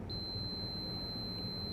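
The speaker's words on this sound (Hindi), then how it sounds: "ये ओहम की रेंज पर हम इसे सेट करेंगे जहाँ पर बीप का साउंड आता है" A multimeter set to its ohm range gives a continuity beep while testing a three-phase contactor on a duct air conditioner, one steady high tone that holds without a break, fairly faint over low background hum.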